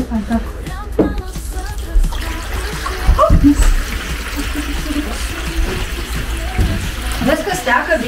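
Water runs from a hose into a wooden hot tub outdoors, a steady rushing and splashing flow that continues throughout while people talk over it.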